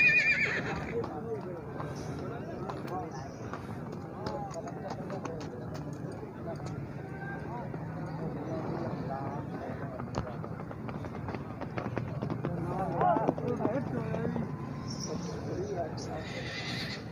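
At a horse fair in Tandla, horses whinny and hooves clip-clop amid a busy crowd, with people talking throughout and repeated neighs rising over the chatter.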